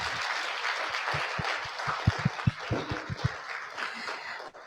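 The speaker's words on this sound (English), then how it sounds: "please help me to give a round of applause to our panelists for a job very well done" A standing audience at a high-level panel event in Arusha, Tanzania, applauds the panelists with fairly faint, scattered claps, a few sharper nearby ones standing out, fading out after a few seconds.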